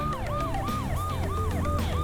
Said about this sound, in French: Une ambulance sous-marine passait par là.